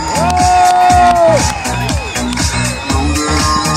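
Spectators at an ice swimming world championship final in Murmansk cheer and shout loudly, a dense crowd roar with whoops and an amplified announcer's voice over it.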